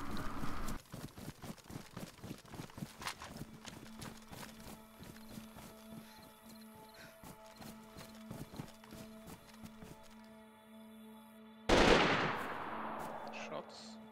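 Gunfire in the survival game DayZ during a PvP fight at a military compound: repeated sharp shots crackle at an uneven rhythm amid hoof-like clatter and a steady tone, ending in a louder, closer burst.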